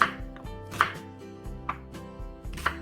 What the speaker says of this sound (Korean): 양파, 홍초, 대파, 새송이버섯은 고기와 비슷한 크기로 썰어주시면 됩니다.